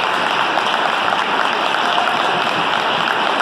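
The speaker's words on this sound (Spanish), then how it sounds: "a quien le pido un fuerte aplauso para ella" An audience at a business testimonial event applauds steadily, a continuous dense patter of clapping that holds at an even level throughout with no talking.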